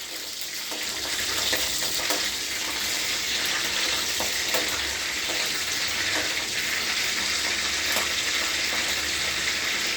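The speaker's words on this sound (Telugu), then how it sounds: "ఫస్ట్ పచ్చిమిరపకాయలు వేయాలండి. ఈ విధంగా కలపాలి." Green chillies fry and get stirred in a pan with a steady, loud hiss that runs throughout, and soft scraping strokes come and go beneath it.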